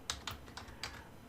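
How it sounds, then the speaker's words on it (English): A few quick computer keyboard keystrokes, about five separate clicks spread over a second, clear and fairly close with no talking. "I'm going to type in here keyboard"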